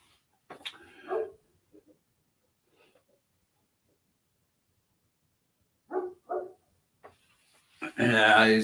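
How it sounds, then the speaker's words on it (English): A dog barks outside, with a few faint bursts early on and a loud, harsh bark that ends the stretch, while someone talks in between. "My dog's outside barking."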